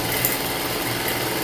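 A sewing machine stitching the seam of a skirt runs in a steady, continuous whir at close range, with no break in the motor hum.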